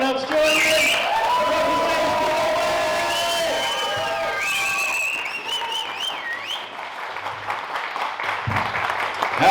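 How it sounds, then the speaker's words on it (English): A stand-up comedy audience breaks into applause. Melodic tones run through the first half, then scattered claps and cheering rise and fill the later part. "So Nick's going to start the applause now"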